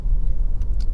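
A Honda CR-V 2.2 i-DTEC diesel with an automatic gearbox and 4WD idles close by, giving a steady low rumble with faint light ticking and no voices.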